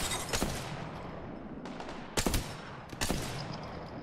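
Video game gunfire: several sharp, loud shots in separate bursts, with quieter battle noise between them and no talk.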